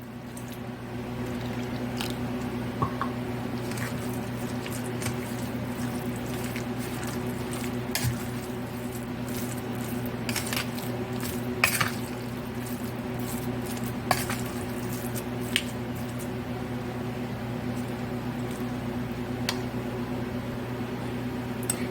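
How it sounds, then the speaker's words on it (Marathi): Poha cutlet mixture is mixed by hand with water in a bowl, giving soft wet squishing and light clinks of the vessel, fairly close, over a constant low hum. "ते व्यवस्थित मिक्स करायला त्याच्यात आपण थोडं पाणी टाकूया"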